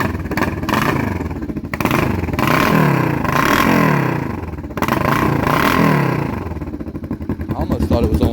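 A Kawasaki Vulcan EN500 motorcycle engine runs unevenly, with a loud, lumpy idle. It revs up in short surges several times and then drops back, close to the microphone, with brief talking over it.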